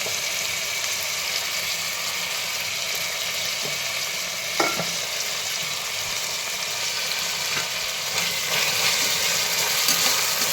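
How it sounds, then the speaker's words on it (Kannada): Tomato and onion cook in a pan with a steady, even frying hiss, marked by a few faint utensil clinks and no voices. "ಟೊಮೊಟೊ ಈರುಳ್ಳಿ ಬೇಯಿಸಿ ಸ್ವಲ್ಪ ಹಾಕ್ಕೊಳ್ತಾ ಇದ್ದೀನಿ"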